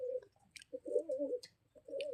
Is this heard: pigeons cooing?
yes